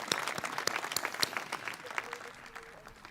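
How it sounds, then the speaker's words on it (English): A high school commencement crowd for the class of 2021 claps for the Board of Trustees, dense and lively at first, then thinning and fading toward the end. "So a big round of applause for all of these amazing people"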